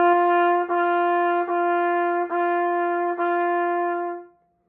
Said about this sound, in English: if I need something softer and more delicate, I may use a syllable like da or do